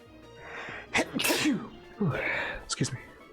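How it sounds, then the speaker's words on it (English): A person sneezes twice in quick succession, close and loud, with brief breathy intakes before each burst. "Oh, gotta sneeze."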